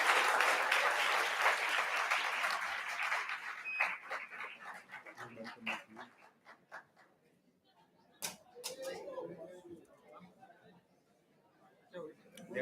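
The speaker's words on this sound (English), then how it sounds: "A big round of applause for Dhruv." An audience's round of applause honouring the third-place prize winner at a fintech olympiad, dense at first and thinning into scattered claps with talk and noise around it.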